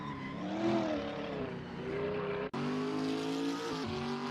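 Engine of a simulated Toyota Hilux race car on the Toronto street circuit in a racing game: a loud, sustained drone whose pitch climbs and falls with gear changes, with a brief cutout partway through before revving resumes.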